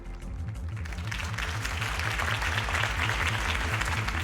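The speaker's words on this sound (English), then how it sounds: "If only Mr. Wayne, my campaign's largest backer, could have heard that applause" Crowd applause at a political campaign rally in Batman: The Telltale Series, a dense sustained clapping roar heard alone over a low rhythmic music bed.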